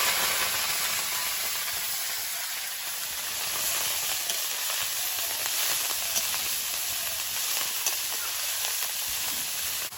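Greens, freshly picked bathua leaves, dropped into hot oil with dried red chillies, whole cumin and crushed garlic, giving a steady loud broadband sizzle and hiss that holds evenly throughout without talk.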